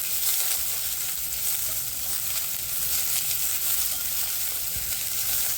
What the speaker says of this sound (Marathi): कांदे छान आपण भाजून घ्यायचे.